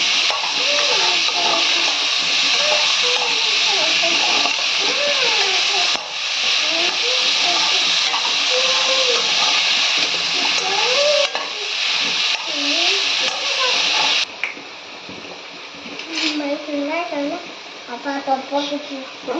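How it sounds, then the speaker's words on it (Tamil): Pallipalayam chicken sizzles and hisses steadily as it fries and is stirred in a pan, with a person talking over the cooking noise throughout. "இது கொஞ்சம் நல்லா ஃப்ரை ஆகட்டும்."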